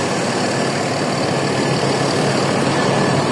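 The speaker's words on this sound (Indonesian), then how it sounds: "Ini ada bis" A bus engine idles at the Randu Dongkal bus terminal in Indonesia in the evening. It makes a loud, constant, broadband rumble with no break or change in level.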